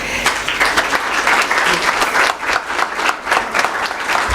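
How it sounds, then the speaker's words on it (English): Audience applause at an opening ceremony, a dense steady clapping from a crowd lasting throughout, loud and close with individual claps audible. "And I will request that we also clap as she receives her gifts."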